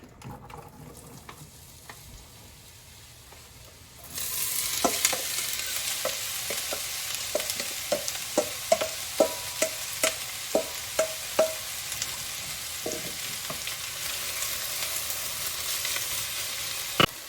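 Onions and peppers fry steadily in oil in a pan, a loud continuous sizzle that jumps up partway through, with a run of sharp scraping clicks as a utensil stirs and knocks against the pan.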